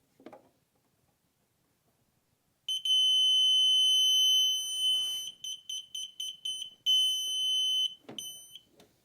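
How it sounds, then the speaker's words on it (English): A Ford Focus's aftermarket flush-fit reversing sensor sounds a steady electronic tone, then breaks into a run of short, loud, evenly spaced beeps, with a few faint knocks before and after. "as soon as the reverse light comes on, this comes on, and hopefully the beeps should work"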